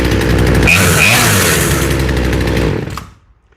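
A freshly tuned chainsaw engine runs with a loud buzzing two-stroke drone that drops in pitch as it settles toward idle, then cuts off abruptly near the end.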